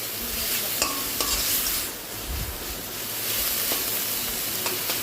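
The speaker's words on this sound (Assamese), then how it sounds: "এইখিনি ভালদৰে ভাজি ল'ব লাগিব।" Spice paste with salt and turmeric sizzles and fries in a pan while being stirred, a steady close hiss with scraping strokes of the spoon and a short dip midway, no voices.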